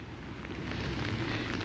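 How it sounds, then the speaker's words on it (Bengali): Heavy rain falls steadily in cold weather, a continuous close, even hiss with no other sounds standing out. "ঝমঝম ঝমঝম করে বৃষ্টি পড়তে আছে"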